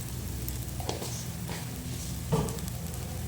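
Mustard seeds and cumin sizzling and popping in hot oil in a pan while cooking drumstick dal kulambu, a soft steady crackle with a few sharper pops, quiet and close.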